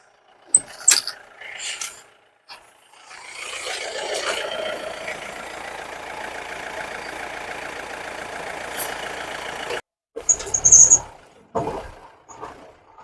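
A 2006 Mahindra Bolero with power steering runs on a test drive, its engine a steady mid-pitched drone lasting about six seconds. Brief knocks and voices come before it, and a few short sharp sounds follow.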